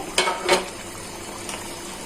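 Pangas fish and eggplant curry simmering under a lid, a soft steady bubbling hiss with two brief louder clinks or stirs near the start and a faint one later, no voices.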